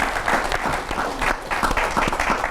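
Steady applause from an audience, dense clapping that holds at an even level throughout with no voices over it.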